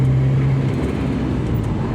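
A Toyota Kijang Krista converted to a semi-automatic clutch drones with a steady engine hum close by, low and continuous, with a faint tonal whine fading early on.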